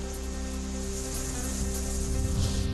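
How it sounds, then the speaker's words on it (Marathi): Heavy rain falls in the Baner area of Pune as a steady, even wash of noise over a low constant hum, with no voices. "पुण्यातील बाणेर परिसरामध्ये जोरदार पाऊस।"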